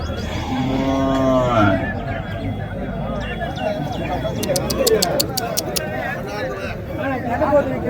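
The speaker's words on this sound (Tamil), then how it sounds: "இங்கே ஒரு 2 கண்ணுங்க இருக்குது பாருங்க, நாட்டு கண்ணுங்க." Native breed calves mooing at a busy cattle market in Tirupattur district: one loud, drawn-out moo up close, then crowd chatter, livestock noise and a voice talking, with brief metallic clinks.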